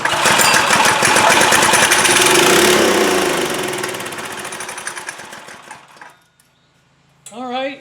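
A Trailmaster go-kart engine fires on a shot of starting fluid and runs loud and rough for about six seconds, then sputters out into silence, followed by a short burst of voice.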